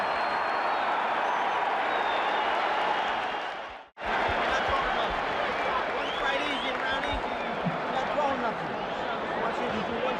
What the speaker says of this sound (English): The crowd is really juiced up.